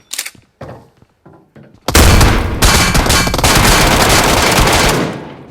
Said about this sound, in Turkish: Bir de bu silah çıktı başımıza. Pıt pıt pıt pıt pıt pıt pıt pıt pıt sıkıyor.